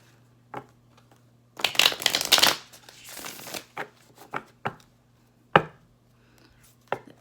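A deck of cards is riffled in two quick bursts of fluttering slaps, followed by scattered taps and soft card handling noises.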